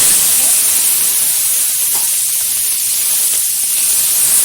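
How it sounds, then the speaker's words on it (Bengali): Shrimp dusted with turmeric sizzling in hot oil in a wok, a loud, steady hiss that fills the whole clip with no talking. "তেলটা গরম হয়ে যাওয়ার পর দিয়ে দিলাম সামান্য পরিমাণে হলুদ গুঁড়ো, দিয়ে দিচ্ছি বেছে রাখা চিংড়ি মাছ"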